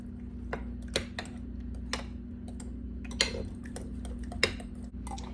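Canned pumpkin batter being mixed in a bowl, heard as sparse, irregular light clicks and taps of a utensil against the bowl over a steady low hum, fairly quiet and close.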